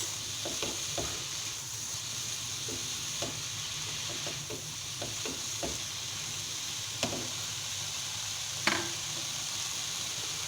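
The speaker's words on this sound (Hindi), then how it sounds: "सब्जियों को भूनते हुए 3 मिनट हो चुके हैं" Vegetables stir-frying in a pan for chicken fried rice, a steady sizzle running throughout with a few light clicks and scrapes of stirring scattered across it, moderately quiet and with no voices.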